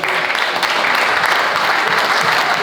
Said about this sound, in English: So a round of applause for the volunteers.